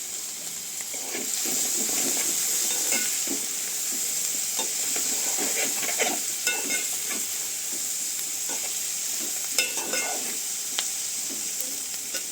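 Curry leaves crackle and sizzle in hot oil in a village kitchen, a steady close frying hiss with scattered pops and spoon stirring throughout.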